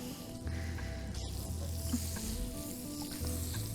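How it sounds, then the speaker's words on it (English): Butter melting in the same frying pan used for pan-fried king scallops gives a steady, moderate sizzle that runs throughout with a faint low hum beneath, and no one speaks. "in the same pan, add a couple of knobs of butter"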